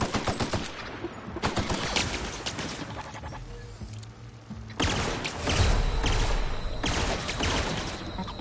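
A shotgun firing in The Outer Worlds video game, loud close bursts of gunfire in several clusters with short gaps between them.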